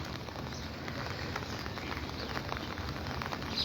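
Heavy rain falls steadily in Comilla, an even, dense hiss of drops with no pauses throughout the short stretch.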